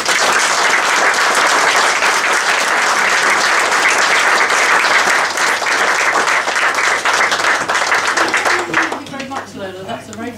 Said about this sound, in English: I would like us to really, really give her a round of applause